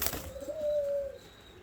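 Black-winged fancy pigeon gives a single drawn-out coo, steady and fairly close, preceded by a brief rustle and followed by faint room noise.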